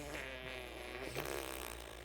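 A voice imitates a fart with a low, drawn-out buzzing rasp that swells into a rougher burst near the end, quiet and alone.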